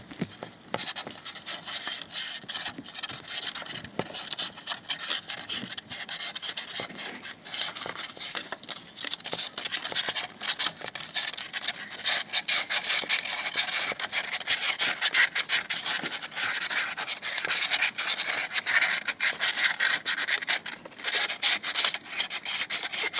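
Dense, continuous scraping and rubbing close by as the engine surface around a newly fitted water pump is cleaned during a timing belt job, a gritty rasping that carries on without pause.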